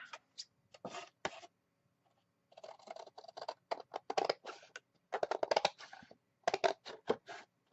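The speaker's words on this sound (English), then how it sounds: "So let's cut this one. Because you got too many flaps." Scissors snip a flap off a paper handbag-style Christmas gift bag, giving close, crisp cuts and paper crinkles in uneven bursts with short pauses between them. No voices.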